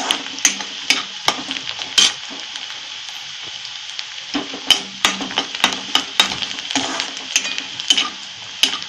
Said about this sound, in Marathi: हलवून हलवून कांदा भाजून घ्यायचा।